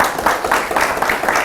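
Brief burst of applause from an audience at a motivational lecture, dense scattered clapping at fairly loud level throughout, with no break.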